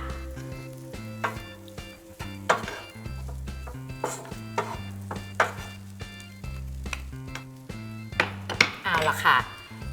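Rice with chili paste and blanched long beans stir-fried in a pan over high heat, with steady sizzling, scraping and clinking of a utensil against the pan, while music plays underneath.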